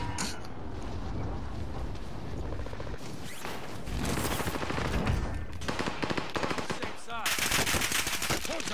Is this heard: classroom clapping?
no